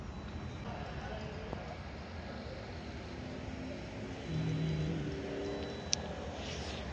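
Horses at a lit-up park in Abu Dhabi give faint hoof clip-clops beneath a steady wash of outdoor crowd and traffic noise, with voices murmuring in the background.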